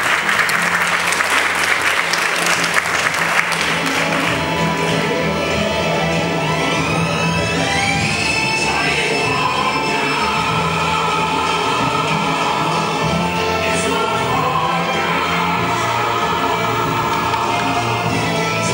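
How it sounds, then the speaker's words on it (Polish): Sustained loud applause from a school audience at a year-end ceremony for third-grade classes, a dense wall of clapping lasting the whole stretch with little else over it. "Brawa!"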